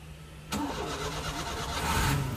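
A 1989 Daihatsu Zebra van engine turns over and catches, a steady mid-pitched engine rumble with rapid pulsing that begins suddenly and continues without talk.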